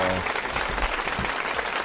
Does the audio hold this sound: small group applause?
yes